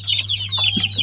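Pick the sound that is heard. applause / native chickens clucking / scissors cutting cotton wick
native chickens clucking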